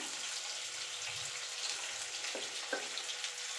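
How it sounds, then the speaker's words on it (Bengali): Mustard oil poured into a hot wok gives a soft, steady hiss of faint sizzling, with a couple of small pops near the end. "কড়াইটা গরম হয়ে গেছে এবার দিয়ে দেবো সর্ষের তেল"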